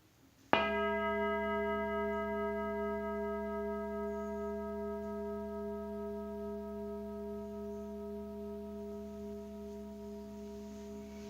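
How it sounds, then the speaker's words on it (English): A big bell struck once, a sharp strike followed by a rich, sustained ringing tone with many overtones that decays very slowly over about ten seconds, clear and alone in a quiet room. "I'm still learning how to play the big bell."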